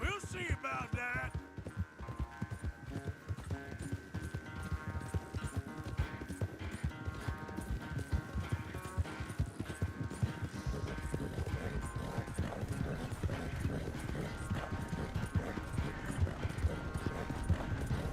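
Horse hooves gallop in a video game, a fast, steady rhythmic clip-clop that runs throughout at moderate level over a low steady hum, with no voices.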